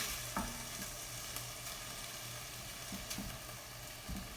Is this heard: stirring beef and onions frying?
yes